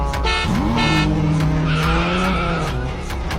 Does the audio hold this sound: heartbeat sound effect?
no